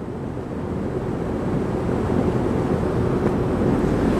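Two Sturtevant size 8 design 5 propeller fans driven by a VFD-powered motor, a loud, steady rushing whoosh of moving air that builds slightly and holds constant.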